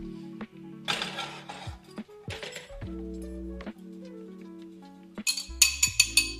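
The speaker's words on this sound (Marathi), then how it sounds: "I took 4 eggs and added some salt in it, and I'm beating the eggs." Eggs with salt are beaten in a bowl, with scattered clinks of utensil on the bowl followed by a quick run of rhythmic, close taps over a low steady hum.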